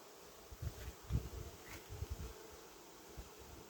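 Honey bees fly around hives set beside a buckwheat field, a faint airy buzzing with soft low rumbles of wind or handling drifting in and out.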